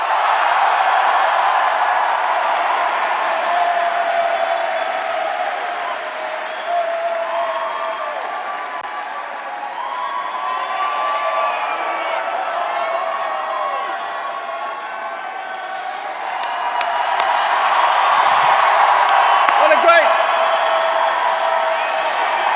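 A large crowd at a Chicago political launch rally applauds and cheers in a sustained roar that dips briefly midway and then swells again, with whoops scattered through it.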